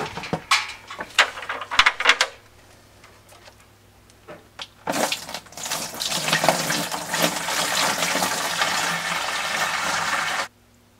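Water runs into a hydroponics bucket. Short splashy bursts come first, then after a pause a loud steady pour fills the bucket for several seconds before it stops abruptly.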